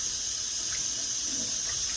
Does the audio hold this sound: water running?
yes